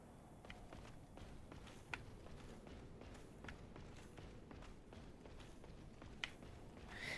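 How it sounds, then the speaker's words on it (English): Footsteps in Dark Souls, a steady run of soft, muffled steps repeating over a low ambient hum, with a few sharper thumps standing out, fairly quiet and without talk. "I do hear footsteps. Why do I hear footsteps?"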